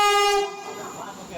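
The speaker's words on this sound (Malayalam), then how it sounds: "അതേ ഒരു ട്രെയിനൊക്കെ വന്നിട്ടുണ്ട്" A train at a railway station sounds a long horn blast that fades into rumbling rail noise, fairly close and loud.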